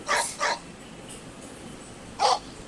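A puppy gives three short, sharp yips or barks, two in quick succession and one more after a pause, fairly close against a quiet background.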